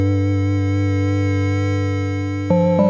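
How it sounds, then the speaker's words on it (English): MiniFreak synthesizer bass line: a loud, buzzy sustained low note with strong harmonics holds for over two seconds, then changes pitch with two quick retriggered notes near the end; no talking. "I'm gonna use this to create a bass line."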